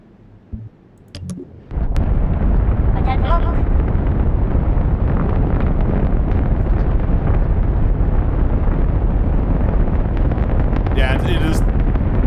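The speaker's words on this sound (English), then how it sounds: "It's just the rockets are so loud." Rocket engines roar in Kerbal Space Program 2, a space-flight game: after a quiet start with clicks, a loud, steady broadband rumble comes in and holds for the rest of the clip, with voices talking faintly beneath it.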